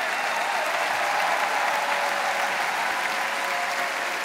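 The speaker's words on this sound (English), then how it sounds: "they all deserve a big round of applause for all the artists" Dense, continuous applause from a large arena audience at the 2015 Eurovision Song Contest grand final in Vienna, loud and even from start to finish, with no voices standing out.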